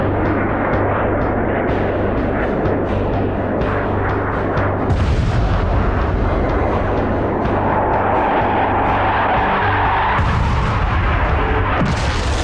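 Bombs explode in the sea near ships during an air attack. Loud, continuous rumbling booms roll one after another in a dense, roaring wash, with a sharper burst near the end.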